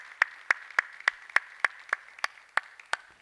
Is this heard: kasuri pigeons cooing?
no